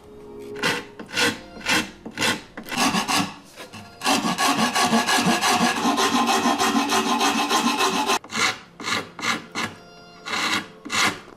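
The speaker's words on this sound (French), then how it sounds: "Ce que j'arrive pas à toucher avec ma ponceuse, je fais avec le canif." Repeated dry scraping and rasping strokes of a pocket knife carving the wood of a Stradivarius-model violin, close and fairly loud, with a longer continuous scraping stretch in the middle and no speech.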